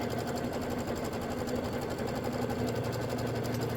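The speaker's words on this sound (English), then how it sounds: "So right here, stitch the bag placement line." An embroidery machine stitches a bag placement line on a quilt block, a steady, close, rapid mechanical hum and needle chatter running without a break and without any voice.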